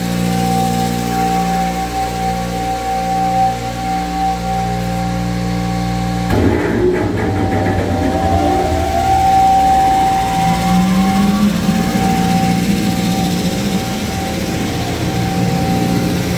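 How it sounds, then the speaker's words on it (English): A vacuum system on a Thermwood CS43 CNC machine switches on partway through, a sudden broadband roar over a steady machine hum with a rising whine, loud and continuous. "then we're gonna turn on the vacuum so we can suck up the."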